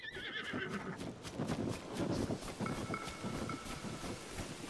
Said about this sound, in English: Hey, random horse. Please do not kick me.